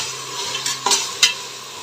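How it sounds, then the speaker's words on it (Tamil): Onions and tomatoes sautéing in a pan for mutton biryani, a soft continuous sizzle close by with a few quick stirring scrapes spaced through it. "நல்லா வதங்கட்டும்."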